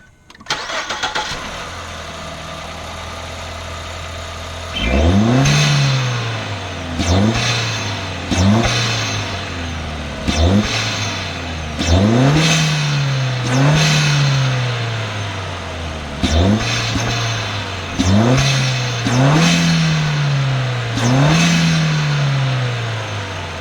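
A 2014 Ford Fusion engine with an aftermarket K&N air intake cranks and starts, then revs up repeatedly in short bursts, each rev climbing and dropping back to a steady idle, close and loud.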